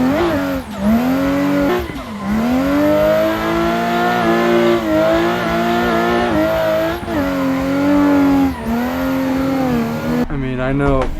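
A race car engine in a sim racing game played on a Thrustmaster T300RS GT wheel revs loudly and continuously, its pitch climbing and dropping sharply at several gear shifts, with someone talking over it.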